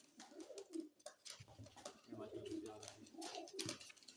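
A broad-winged pigeon coos nearby in low, throaty repeated calls, with faint background noise between the coos.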